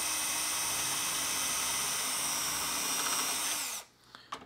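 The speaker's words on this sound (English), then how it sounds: "Drill my first hole." A power drill whines steadily and loudly for several seconds while boring through material, then cuts off abruptly, leaving a few faint clicks.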